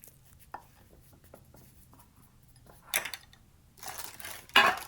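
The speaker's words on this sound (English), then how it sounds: "So now we're going to dump all of this into a pan." A thick dried fruit and nut mixture tipped into a parchment-lined square brownie pan, giving a few soft taps and then a rustling, scraping slide and a final clatter, fairly quiet with no speech.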